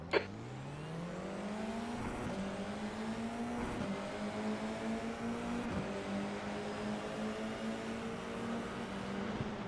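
Formula 4 race cars in the iRacing game at Algarve launching from a standing start, engines revving up steadily in a rising, sustained whine with gear shifts, continuous and fairly loud.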